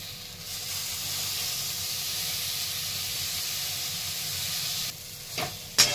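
Green chillies sizzling in a frying pan with a little lemon juice, giving a steady hissing fry throughout that breaks into a few brief louder pops near the end.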